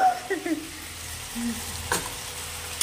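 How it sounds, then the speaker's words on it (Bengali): Egg omelette batter fries in a pan for omelette curry, giving a steady close sizzle with small crackles throughout and a faint voice near the start. "এটা ভাজা হোক, চলো। এটা আমি ভাজা করে নিই"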